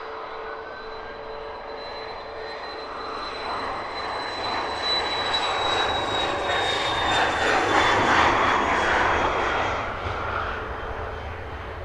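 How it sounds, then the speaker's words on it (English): A fixed-wing airplane departs Luton Airport, its engine roar swelling steadily from a distant hum to a broad, moderately loud rumble before easing off, with no talking. "Super quiet departure."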